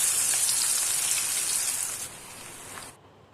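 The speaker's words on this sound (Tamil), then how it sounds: "ஒரு 5 நிமிஷம் 6 நிமிஷம் நல்லா ஃப்ரை பண்ணி எடுத்துக்கோங்க." Cauliflower fries in hot oil in a pan, a bright close hiss of sizzling that fades slightly before cutting off abruptly near the end.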